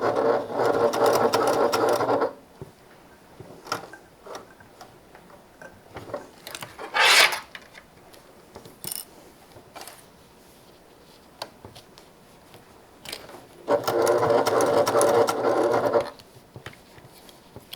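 Sewing machine stitching across and back up the sides of a handmade fabric bag, two loud steady bursts of motor whir at the start and end with quieter handling noises between.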